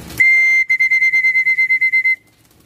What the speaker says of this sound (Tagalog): Magsipol-sipol lang tayo para matuto sila sa sipol natin.